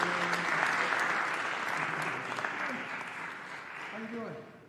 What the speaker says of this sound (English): You can give them a nice big round of applause.